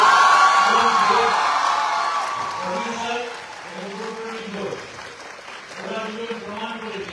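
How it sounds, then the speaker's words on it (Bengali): A packed cinema hall crowd applauds and whoops loudly at first, with the clapping fading into rhythmic group chanting and shouts. "একটা খুব জোরে হাততালি দরকার"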